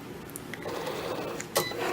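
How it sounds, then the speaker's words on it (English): A Cricut cutting machine scores cardstock on its mat with a scoring stylus, giving off a steady whirring mechanical drone with faint ticks and a brief clack near the end, close by. "the Cricut goes right to work"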